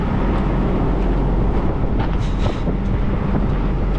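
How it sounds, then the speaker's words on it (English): Strong wind blows steadily on a hilltop beside a truck hauling cattle, a loud, continuous roar buffeting the microphone without pause. "It's got windy today too"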